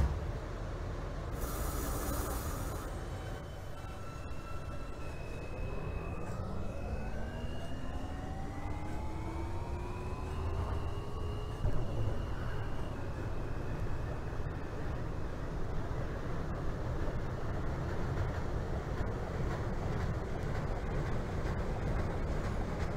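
A video-game R160 subway train on the New York R line runs with a steady low rumble and hiss, rising and falling whines of the motors sweeping upward as it accelerates.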